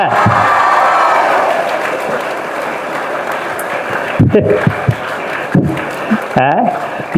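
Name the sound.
crowd clapping and cheering at an event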